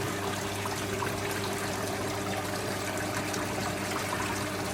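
Cold water runs steadily into a koi quarantine tank, a continuous broadband rush and trickle at even loudness throughout, with no talking.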